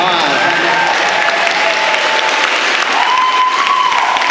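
A convention opening ceremony audience in an auditorium breaks into loud, sustained applause, with dense clapping throughout and a voice speaking over it briefly.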